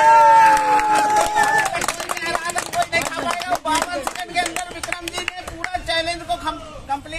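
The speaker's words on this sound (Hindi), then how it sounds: "ताली बजाओ यार" Onlookers clap in quick, scattered bursts at a street food chole bhature eating challenge, with crowd chatter and a voice talking over the clapping.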